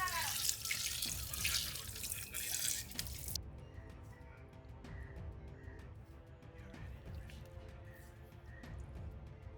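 A kitchen tap runs while mutton is rinsed at a sink, with a strong splashing gush at first that eases to a softer trickle and scattered drips, plus faint background voices.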